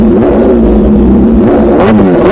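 A limited-edition MV Agusta motorcycle engine revving loudly and close, a rising and falling mechanical roar with no talking.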